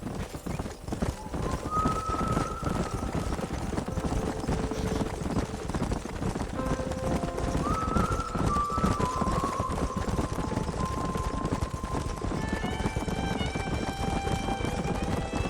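Horses gallop in the Western video game Red Dead Redemption, with steady hoofbeats running throughout, whinnies rising above them, and a musical score playing underneath.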